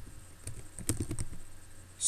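Keystrokes on a computer keyboard while editing a web page, a short burst of quick irregular taps up close with a cluster in the middle, no speech.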